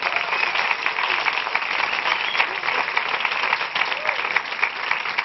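Sustained applause from a live comedy show audience, a dense steady wash of clapping with some crowd noise, loud and continuous throughout with no clear gaps.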